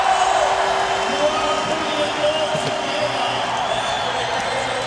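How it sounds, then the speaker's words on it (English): Crowd noise at an SLS World Tour street skateboarding final in Newark, New Jersey, a steady, full-band roar of cheering and whooping that holds from start to finish, with commentary voices talking over it. "And the crowd is loving this."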